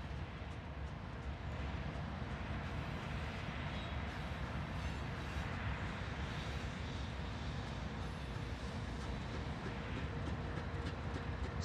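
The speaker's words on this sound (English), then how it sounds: "the train in the foreground also starts moving south" A BNSF train rolls through the Saginaw yard in Texas, a continuous low rumble and rail noise with faint clatter, steady and moderately distant throughout.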